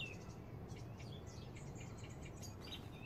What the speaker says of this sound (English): Could be hedge sparrows.